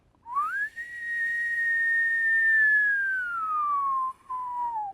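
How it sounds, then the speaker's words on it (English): A person whistles a single sustained, clear tone that rises quickly, holds steady, then glides gradually downward with a brief break near the end, close and alone over a quiet background. "You can also hear me whistling."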